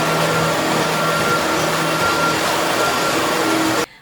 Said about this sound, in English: you're going to want a vacuum cleaner